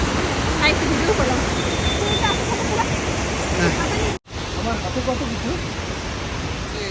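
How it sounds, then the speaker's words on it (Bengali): Waterfall in Darjeeling roaring steadily with a broad rushing wash, a brief dropout partway, and voices chattering faintly beneath the water. "এইখানে আরেকটা ঝর্ণা এই সাইডে"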